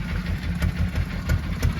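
A squid boat's engine idles continuously, a low, steady deep rumble with faint irregular knocks and a wash of background noise.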